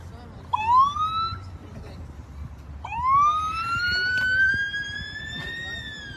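A voice imitates a police siren with two rising, wailing sweeps, the second held longer, loud and close against a quiet background.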